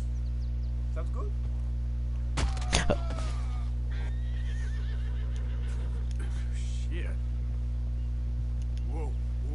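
A horse whinnies briefly in the middle, over a steady low background hum, with a few faint clops and sounds around it.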